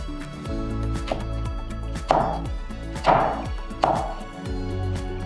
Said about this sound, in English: From the Julienne cut, we cut this in Brunoise